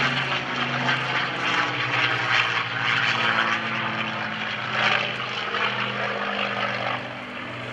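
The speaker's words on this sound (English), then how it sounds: "Beautiful sound of that Mustang." A P-51D Mustang makes a low, full-throttle pass at the 2011 Boston Portsmouth airshow, its piston engine and propeller producing a loud, sustained roar that eases off near the end.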